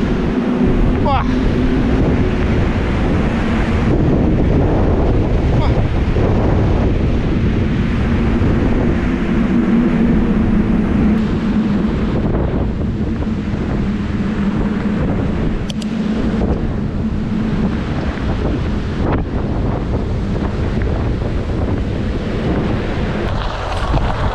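Steady wind roars against the microphone during an uphill climb on a bicycle at a popular road event, loud and continuous throughout with a broad rushing buffet that never lets up.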